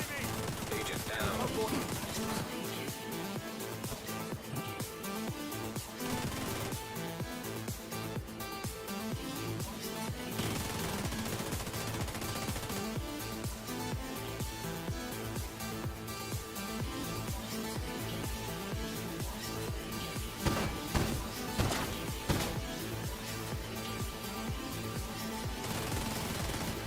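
Light machine gun fire in The Division 2, a continuous dense stream of rapid automatic shots with layered game effects, steady and loud throughout with a couple of heavier bursts near the end.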